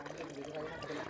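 Water flowing from a hand pump, a soft continuous splashing trickle, faint and steady with the texture of pouring liquid.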